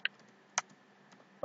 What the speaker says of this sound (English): Now just type a command: apt-get